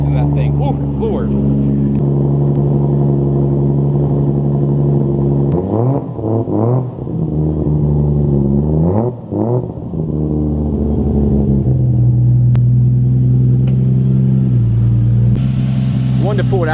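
A Toyota Supra with a new fuel system idles loudly up close, then revs sharply a few times in quick blips before settling back to a steady rumble, with people talking over it.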